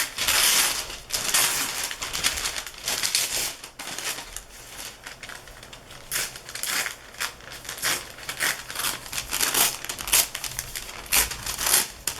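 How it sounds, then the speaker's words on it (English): Tissue paper being torn for a smash book cover, heard as a run of dry, crinkling rips and rustles close by, coming in bursts over several seconds with no talking. "I have this tissue. I think I will tear this one."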